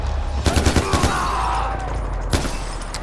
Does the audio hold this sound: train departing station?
no